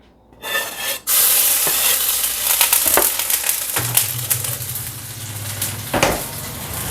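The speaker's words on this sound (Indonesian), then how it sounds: "Nah ini bawang putih sama cabai masuk." Garlic and chili hit hot oil with a sudden loud sizzle that continues steadily and close, broken by scraping and clinking of a spatula stirring the pan.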